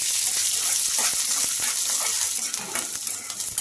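Peanuts and green chillies frying in oil in a pan for chutney, a loud, steady hiss and crackle with occasional stirring scrapes, close up and alone.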